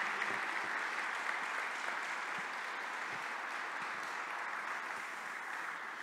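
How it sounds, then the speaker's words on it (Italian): Sustained applause from an audience at the Cassa Edile Awards 2020 ceremony at SAIE Bologna, a steady, dense clapping that holds at an even level throughout with no voices over it. "io sinceramente il primo applauso lo vorrei dare proprio alle imprese"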